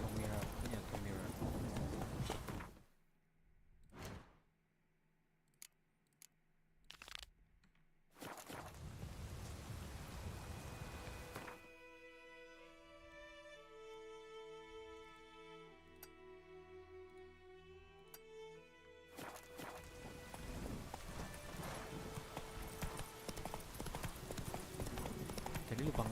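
Roach, the horse in the video game The Witcher 3, gallops with loud rhythmic clip-clopping hooves, drops away to a quieter stretch with musical tones, then the galloping returns just as strongly.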